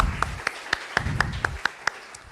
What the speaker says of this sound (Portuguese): vamos receber, por favor, com uma salva de palmas, o nosso convidado deste domingo